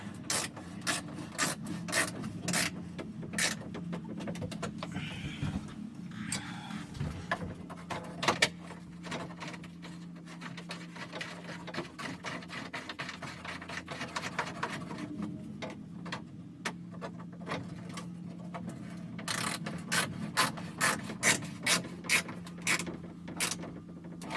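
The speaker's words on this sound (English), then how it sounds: "So these little ratchets work the best for that." Small hand ratchet clicking in quick bursts while turning bolts on the side panels of a John Deere 8400 tractor, close and fairly quiet over a low steady background hum, no talking.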